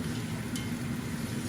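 Onions frying in a pan while chicken is cooked with ghee, ginger and garlic: a soft, steady sizzle with a low hum beneath, close up and continuous, with no voices.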